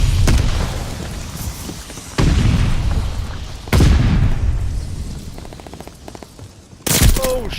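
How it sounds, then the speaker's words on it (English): Bombing run explosions in Call of Duty: Vanguard, heard as three heavy booming blasts in succession that each decay into rumbling debris, with scattered gunfire between them and a final sharp blast near the end. "Bombing run."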